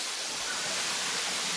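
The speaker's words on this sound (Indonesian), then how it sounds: "Karena ini memang belum pernah diekspos air terjun ini." A Bali waterfall at Lumbung Kauh, Tabanan, gives off a steady, dense rushing roar of falling water, even and unbroken.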